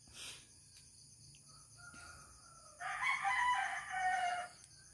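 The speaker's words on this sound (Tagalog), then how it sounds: "Ay, nay langgam nay manok." A rooster crows once, loud and close, against a quiet night backdrop with a faint steady hum, after a brief earlier call and scattered faint sounds.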